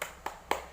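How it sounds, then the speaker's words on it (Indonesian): A group of women at a training session claps in a few separate, crisp hand claps spaced apart, fairly faint and close, over a quiet room background. "Kita beri tepukan hebat untuk semuanya"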